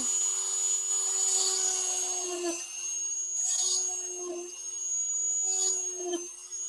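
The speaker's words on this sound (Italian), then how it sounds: "Vado ad accenderlo, quindi vado a dargli la velocità, ok? E in verticale poi dopo vado a forare." A rotary drill spinning at high speed while boring holes in wood for embroidery on wood, a steady high whine with small dips as the bit bites in, heard close and alone.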